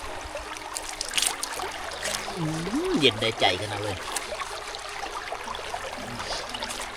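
Natural water from a mountain stream trickles and flows steadily in a remote village, faint and continuous beneath someone speaking.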